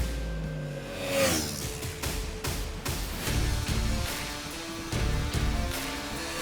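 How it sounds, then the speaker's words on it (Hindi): A KTM RC 390 motorcycle engine runs steadily on a race track, a continuous buzzing drone with slight rises and dips in throttle, close and fairly loud with no talk. "ओवरऑल ये इंजन काफ़ी स्मूथ और रिफाइंड है।"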